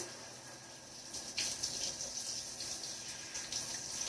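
A tap runs, wetting a hand-tied cap wig under the stream. The water makes a quiet, steady splashing gush that brightens after a moment as the flow hits the hair.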